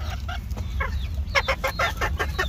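A young rooster clucks close by in a run of short, clipped calls that grow denser toward the end, over a low steady background rumble.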